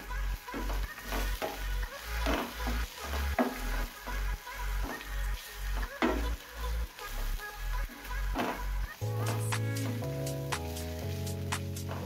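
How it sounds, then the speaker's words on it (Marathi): Onion frying in a pan for a chicken cafreal, heard as a rhythmic run of scraping stirs and soft sizzling for most of the clip, then a quieter stretch with faint clinks near the end. "ह्याच पॅन मध्ये एक कांदा ऍड करून भाजून घेतो"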